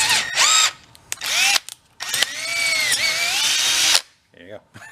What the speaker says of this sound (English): I changed out the drill to one that has variable speed.